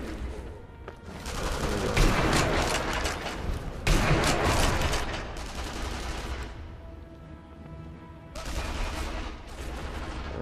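Enemy soldiers fire on the player in the war shooter Sniper Elite V2, dense bursts of rapid gunfire and booming shots, loud and continuous with brief lulls, with no speech over it.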